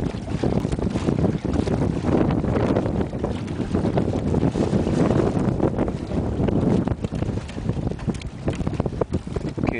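A strong gust of wind hits while sailing a trimaran kayak in stronger winds, loud buffeting roar and microphone wind noise filling the whole stretch, with water rushing around the hull and no speech.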